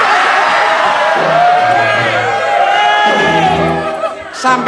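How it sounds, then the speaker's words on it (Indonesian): A television studio audience shouts and yells at once, a loud, dense wall of overlapping voices that holds steady throughout before dipping briefly near the end. "Ini kenapa kok dari tadi kok teriak-teriak itu ada apa?"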